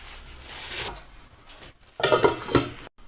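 Risen fermented rice batter for palappam being stirred in a bowl, with soft scraping at first, then louder utensil clinks and sloshing toward the end.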